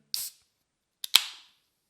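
A sharp hiss of escaping gas, then a short click followed by a louder pop and fizzing release as a bottle cap comes off.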